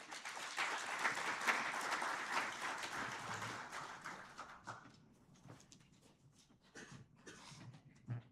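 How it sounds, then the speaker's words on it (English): An audience at a conference session claps for a sponsor, with dense applause for about four seconds that thins into scattered, fading claps. The sound is moderately distant. "Another round of applause for our platinum sponsor, Old Mutual"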